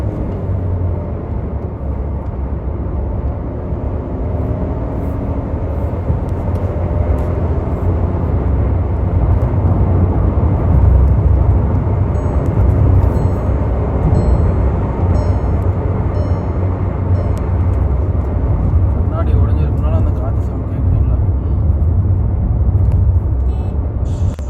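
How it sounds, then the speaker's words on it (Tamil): A VW Taigun cruising along a highway, a steady, loud broadband rumble of engine, road and wind noise that holds even for the whole stretch, with no talking over it. "ஸோ பிரேக் அசிஸ்டோட இப்போ நம்ம ஹைவேல ட்ரைவ் பண்ணிகிட்ருக்கோம்."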